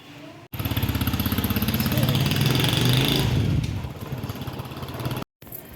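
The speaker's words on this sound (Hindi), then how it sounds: "हम जा रहे हैं बाइक पे।" A motorbike engine runs close by with a steady, throbbing putter that rises slightly in the middle and then eases off, with a brief dropout near the end.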